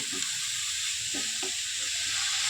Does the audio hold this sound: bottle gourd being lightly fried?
yes